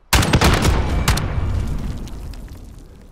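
A grenade blast and bursts of gunfire ring out in Call of Duty: Modern Warfare, a loud sharp boom followed by rapid cracking shots that trail off into a fading rumble.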